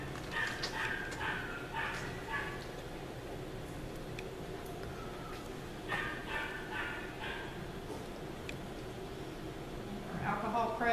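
A dog at a veterinary clinic during a lateral saphenous blood draw before a dental cleaning gives a few soft yips and whimpers, moderately close, while people talk over a steady room hum.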